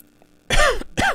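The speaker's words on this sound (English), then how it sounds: "And then a nice cough down the microphone for everyone." Two harsh coughs land close to a microphone, one right after the other, after a brief quiet start.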